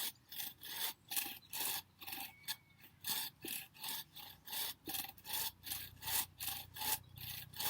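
Hand saw cutting around the circumference of a piece of soft wood for a mallet, a steady close rhythm of rasping back-and-forth strokes, about two per second, with no talking.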